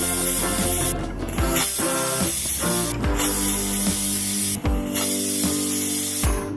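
A steady, loud hiss of steam runs throughout, with a few brief dips and breaks, like a pressure cooker venting close by while cooking dal khichdi.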